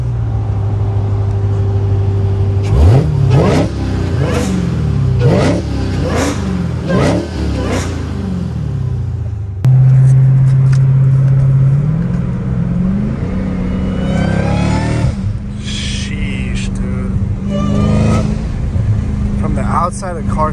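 Outside view of a Dodge Hellcat Redeye: loud, near engine revs climbing and falling in repeated bursts, then a hard sustained acceleration with a rising pitch, with faint talk at times.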